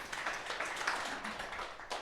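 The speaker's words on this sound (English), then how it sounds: "A round of applause to Sergejs." Applause from an audience at an AI innovation event in the Baltics: a steady, moderate wash of many hands clapping throughout, with no break.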